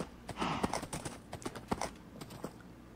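A horse walks with clear, fairly close hoof clip-clops in an uneven rhythm, about a dozen hoofbeats over a few seconds, with no talking.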